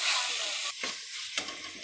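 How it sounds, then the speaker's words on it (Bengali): Village-style masala gravy for ghugni fried and stirred in a pan. It gives a loud, close sizzle broken by stirring strokes, with two sharp scraping breaks in the hiss. "অল্প কষে মশলাটা কষানোর পরে তারপরে এবার মটরটা দিয়ে দেবো।"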